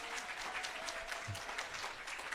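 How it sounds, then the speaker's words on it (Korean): Audience applause at a business lecture, a soft, steady patter of many hands clapping at a distance, fairly quiet and unbroken for a couple of seconds. "박수 한번 쳐주세요."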